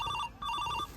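A telephone rings in two short electronic trilling bursts with a brief gap between them, moderately loud and nearby, with no voices over it.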